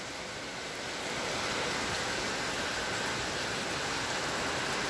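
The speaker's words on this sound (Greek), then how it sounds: "Αλλά πια ξαναρίχνει πολύ βροχή." Heavy rainstorm pouring down in Athens, a dense, steady roar of rain that swells slightly in the first second and then holds loud and even throughout, with no voices.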